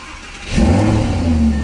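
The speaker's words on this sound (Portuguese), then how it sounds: "Vamos ligar o carro aqui e fazer um cold start" An Audi R8 cold start: a brief starter whir, then the engine catches and flares into a loud, near rev that settles into a high, steady roar.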